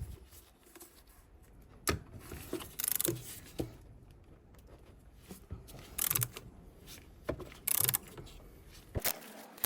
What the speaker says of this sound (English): Oh, there, 27mm socket. And then we can use our ratchet.